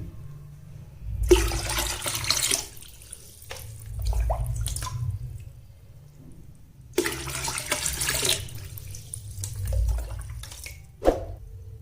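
Water poured into high-TDS water for a hydroponic nutrient solution, two long loud gushing pours separated by quieter splashing and sloshing, close up with no talking.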